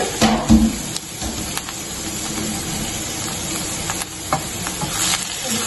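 Onions fry in oil in a pan for masala bhindi, giving a steady sizzling hiss with a few stirring scrapes near the start.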